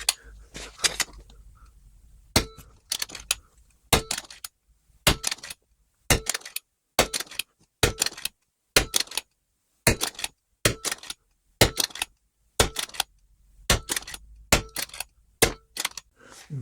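An RTI P3 Compact air rifle fires pellets over a chronograph: about twenty sharp, loud shots at a steady rhythm of roughly one every half to one second, each a crisp crack with a short metallic tail.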